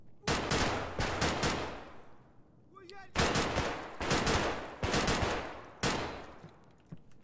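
Bursts of automatic gunfire in Escape From Tarkov ring out loud and close in several sustained volleys separated by short pauses, with a brief squeaky tone between them.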